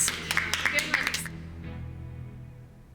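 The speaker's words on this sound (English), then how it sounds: "I think it's a big round of applause." Small group on a cooking competition set clapping briefly for a few seconds, a short ragged burst of hand claps that fades into a quiet room with low background hum.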